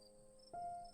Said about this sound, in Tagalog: Ang mga kuliglig ay nagsimula ng umawit.